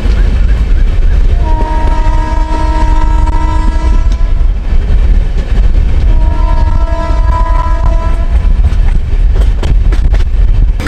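The Ramayan Express crosses a railway bridge with a steady rumble of wheels and cars, while two long, loud horn blasts sound one after the other across the passage.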